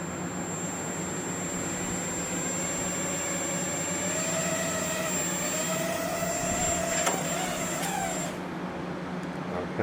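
A small Hubsan X4 quadcopter drone flies on its first flight, giving a steady high whine with a pitch that wavers and rises as the throttle shifts, over constant background noise.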